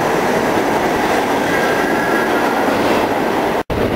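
Loud, continuous rumble of a subway train in a train simulator game moving along the tracks, with a faint squeal partway through, then a sudden brief cut near the end.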